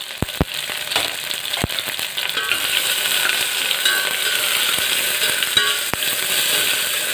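Onion and green chili sauté in a pan for Aloo Tahiri, giving a constant bright sizzle with a few sharp utensil clicks against the pan near the start and scattered through.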